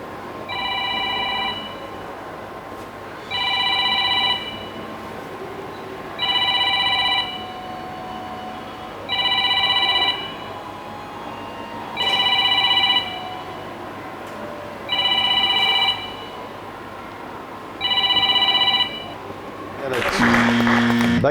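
An old landline home telephone rings in eight regular double bursts with short pauses between them, loud and clear over a steady background hum, before other sounds cut in at the end.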